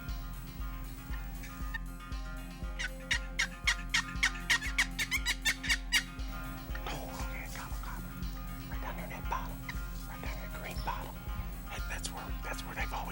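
Wild turkeys gobble in the evening woods near their roost, with a burst of rapid, rattling calls in the middle and more gobbles later on, all over a low steady hum. A voice talks quietly underneath.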